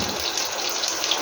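Water is squeezed by hand out of chopped vegetables, giving a brief, continuous wet trickle and splashing that stays fairly close and steady for a moment.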